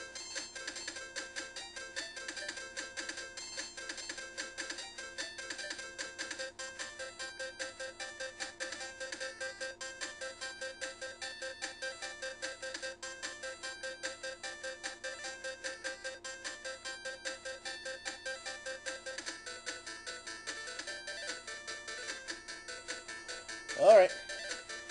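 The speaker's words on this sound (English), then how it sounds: "That was a phone call they needed to take." A phone ringtone plays repeatedly for about twenty-four seconds, a steady electronic melody at moderate volume, ending with a brief louder burst.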